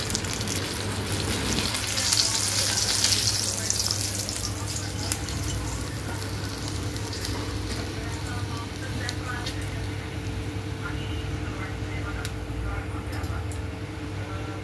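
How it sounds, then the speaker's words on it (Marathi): Mackerel (bangda) fish fry in hot oil in a pan with a close, steady sizzle and bubbling crackle, occasional clicks of handling over the hiss. "अशा प्रकारे आम्ही आता बाकीची पण बांगडे तळून घेणार आहोत।"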